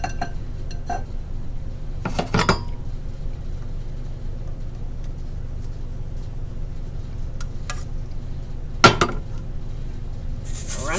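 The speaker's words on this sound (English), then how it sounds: "I'm just going to scrape it off the bottom so I'm not making a mess." A spoon scrapes cooked vanilla custard off the bottom of a pot, making a few short scraping and clinking bursts against a quiet kitchen background. The sharpest scrape comes near the end.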